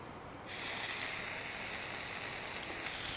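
Bacon hits a hot Blackstone 17 inch griddle and bursts into a loud, close, steady sizzle after a brief quiet start, with no voices over it.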